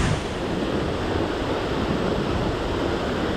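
Tamanawas Falls roars up close as a steady, dense rush of falling water with wind buffeting the microphone, loud and continuous with no talk.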